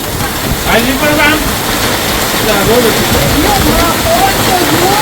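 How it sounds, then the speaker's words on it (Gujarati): Heavy rain driven by strong wind roars steadily and loudly on surfaces nearby, while people talk under the downpour. "આ કઈ વરસાદ છે."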